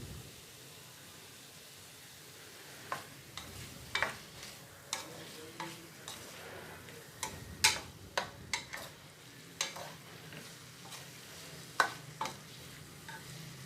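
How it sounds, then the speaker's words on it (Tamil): Sausages get stirred into a sautéing mixture in a one-pot rice dish. A soft, low fry carries under scattered sharp clicks and scrapes of a spoon against the pan. "எனக்கு சாசேஜஸ் கொஞ்சம் இதோடு சேர்த்து அதையும் மிக்ஸ் பண்ணிக்கிறேன்"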